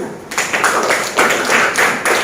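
Classroom students clapping together in a history lesson, a loud rhythmic burst of hand claps in repeated pulses at close range, with no speech.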